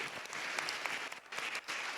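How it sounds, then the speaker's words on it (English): Audience applause at a Sacramento Public Bank town hall, honoring an environmental award winner; a steady wash of many hands clapping at moderate, fairly distant level, continuous for two seconds with no talk. "Round of applause for Chris and all his efforts."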